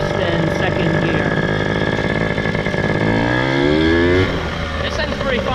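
A Yamaha PW80 dirt bike engine drones loudly and up close while being ridden, its pitch falling and rising as it shifts from first to second gear, with a voice partly audible over it.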